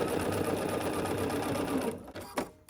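A sewing machine stitches a quilt block seam in a loud, steady, close whir that runs for about two seconds, then stops, leaving a quiet handling sound.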